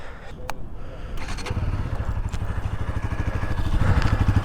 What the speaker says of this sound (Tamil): எக்ஸாஸ்ட் நோட் உங்களுக்கு எப்படி கேட்குதுன்னு தெரியல